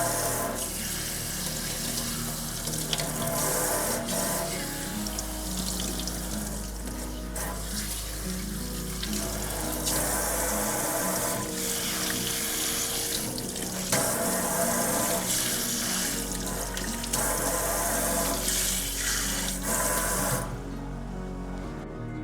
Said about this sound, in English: we're going to rinse the conditioner thoroughly from the mid-lengths and ends